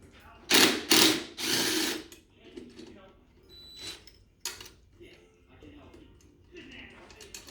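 A hand ratchet loosens a 10 millimeter bolt on a Nissan NV3500 van, giving a few quick close clicking bursts at the start, then fainter scattered mechanical clicks and handling noises.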